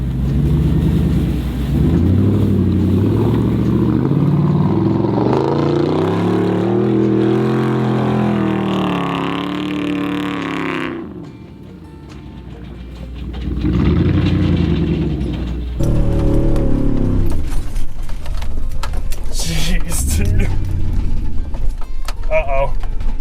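Chevrolet Tahoe engine straining while stuck on a muddy woodland trail, long loud revs rising and falling in repeated surges, then a pause and renewed bursts with people talking over the later part.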